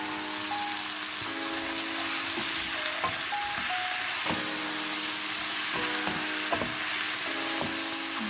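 Prawns hitting a pan of coconut milk curry, a dense, even crackling sizzle that holds for several seconds, punctuated by occasional clinks of a spoon, close and loud, with no talk.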